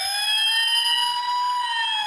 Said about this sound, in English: It uses the AND gate and the NAND gate in order to make the fire engine siren sound